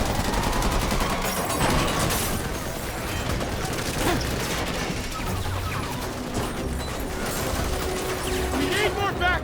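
Gunfire in a Spider-Man video game in a Times Square police shootout, with bursts of shots packed into a dense, loud battle mix that runs the whole time alongside music and crashing effects.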